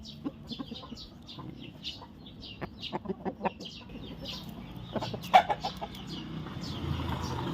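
Chickens cluck in irregular bursts, close and moderately loud, with soft farmyard background noise filling the pauses between calls.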